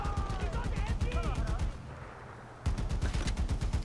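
Mounted machine gun firing in the video game Far Cry 4: rapid, steady bursts with a voice talking over the first part, a short lull, then the sustained chatter resumes close and loud.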